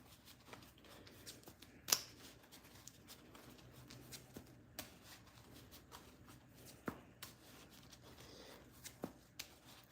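Magic: The Gathering cards being shuffled during a Commander game, giving quiet, soft riffling and tapping with scattered small clicks and a few sharper snaps, faint and close with no talk.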